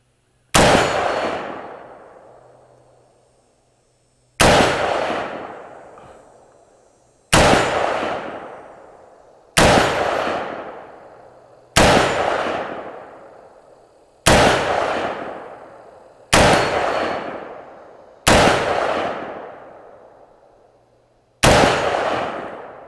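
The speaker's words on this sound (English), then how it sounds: "Everyone is familiar with the reaction of steel with a 223 round." Rounds from a .223 AR-15 rifle strike a steel target outdoors, nine sharp loud cracks each followed by a ringing metallic decay, spaced a couple of seconds apart.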